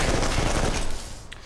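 Rapid gunfire from a weapon in the shooter game Interstellar Marines, a dense stream of loud close shots with heavy kick through most of the moment before easing off.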